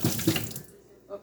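Tap water runs into a kitchen sink while something is rinsed, a short close splashing burst that trails off into a brief quiet before a faint knock.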